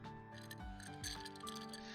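Ice cubes clinking against a glass in the video game 9-nine-, a cluster of bright close clinks with a ringing tone over low music.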